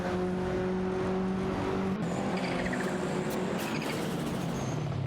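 Simulated race cars, a Volkswagen Golf GTI and a Mitsubishi 3000 GT VR4, roar steadily in a video game race, a loud continuous engine drone with tonal whine that holds for several seconds with no voices.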